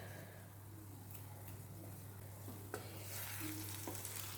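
A faint, steady sizzle of beaten egg with salt frying in a pan, with a few soft scrapes and clinks as it is lightly mixed, over a low constant hum.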